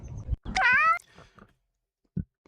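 A cat gives one clear, drawn-out meow, close and fairly loud, with a few soft thuds and small rustles before and after.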